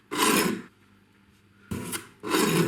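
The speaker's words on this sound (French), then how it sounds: "On découpe les deux extrémités de la pomme de terre." A knife cuts both ends off a potato on a spiralizer setup, giving three short, loud, rasping strokes separated by quiet pauses.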